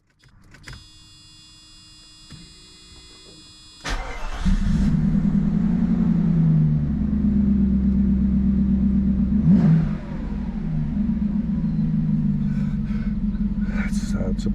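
A Mercedes R129 500SL engine with no muffler cranks and catches, then settles into a loud, raw, rumbling idle with a brief blip of revs midway; faint voices can be heard underneath.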